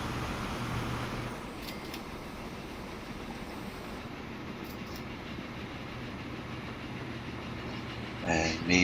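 A train rolls past in the railway game Transport Fever 2, a steady rumbling clatter of wagons that holds at an even level, with a speaker's voice faintly underneath.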